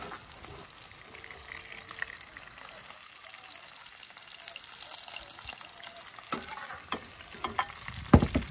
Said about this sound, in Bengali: ট্যাংরা মাছ ভাজা হয়ে গেছে